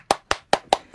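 Five sharp hand claps from one or two people, close and evenly spaced, opening a Japanese radio show with no talk over them.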